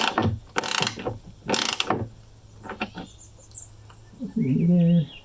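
A bolt is tightened to pull a wood nut down into deck wood, producing several close, raspy ratcheting bursts of metal clicks, followed by a short squeaky scrape near the end.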